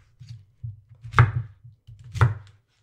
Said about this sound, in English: All right, that's all chopped up.